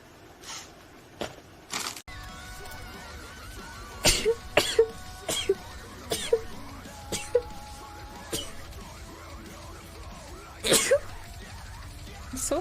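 A person sneezing rapidly in quick bursts, several sharp explosive sneezes spaced over the stretch, some clustered close together, each loud against a quiet room background.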